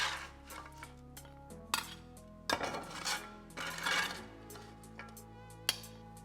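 A metal utensil scraping and scooping hot roasted beer nuts with honey and salt from a pan, a close series of clinks and rasping scrapes spread through the passage over a steady background tone.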